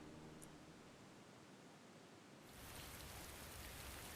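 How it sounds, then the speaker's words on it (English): Rain falls in an anime scene as a steady wash of hiss that grows louder and brighter about halfway through, continuous and fairly faint. "Ooh, rain."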